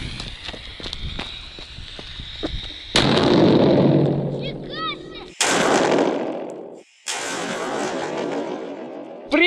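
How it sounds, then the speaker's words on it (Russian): A Jaguar firecracker goes off on a suitcase in a string of loud, sharp bangs and crackling bursts, each cutting in abruptly after quieter rustling, with brief gaps between them. "Получится ли открыть чемодан с помощью петарды ягуар?"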